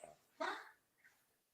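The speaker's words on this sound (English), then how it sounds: "No, he has kennel cough." A dog with kennel cough lets out a short, harsh hacking cough, followed by a fainter rasp, close to the listener.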